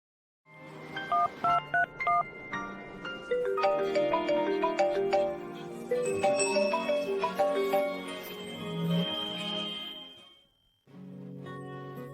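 A rapid run of electronic phone tones, beeping in quick melodic steps, then a longer tuneful ringtone pattern that stops briefly and resumes, close and clear.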